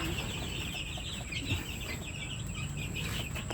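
A crowd of young chicks chirps continuously at close range as they are moved from a sunny spot, a dense, steady peeping with no pauses.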